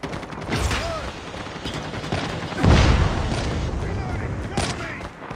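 Sniper rifle shots crack out in a Call of Duty Mobile match, one heavy blast standing out among lighter gunfire and mechanical clatter, with in-game voices shouting throughout.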